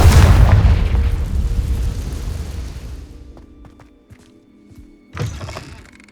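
A Confringo fire spell in Hogwarts Legacy bursts with a loud, booming explosion that rumbles and fades over a few seconds, followed by a smaller thump near the end.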